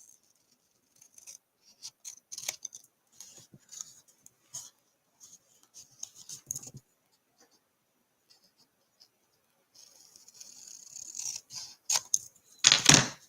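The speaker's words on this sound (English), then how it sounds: "Hold it down firm and trim along the edge." Paper card is trimmed along its edge, giving scattered crisp snips and slides that come in short bursts, then a denser run of cutting and rustling that grows louder toward the end.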